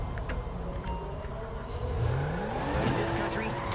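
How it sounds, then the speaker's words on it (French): A drifting car's engine revs and whines through rising and falling pitch sweeps in GTA 5 on PS3, with a voice talking over it. "Ah ok, voiture dérapante, c'est impossible à conduire."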